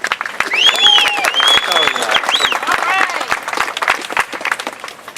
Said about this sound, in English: So put a round of applause together for Holly Jo Beers.